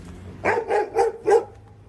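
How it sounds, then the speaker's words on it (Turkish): A dog barks four times in a quick, even series, close by and fairly loud, with a faint background hum. "korktum köpek"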